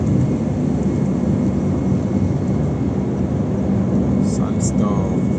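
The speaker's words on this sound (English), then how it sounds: "Wind blowing from this side." Strong wind of a sandstorm rushes in a dense, steady roar, loud and unbroken from start to finish.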